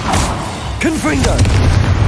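Confringo blasting curse explosions boom in a Hogwarts Legacy battle: loud, dense blasts and rumble fill the whole stretch, with a brief voice cry over the din.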